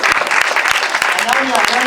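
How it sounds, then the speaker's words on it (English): A room full of people claps steadily at a youth leaders' mixer after the finals of a game. The dense, continuous applause runs the whole time, with voices talking over it. "Okay, big round of applause."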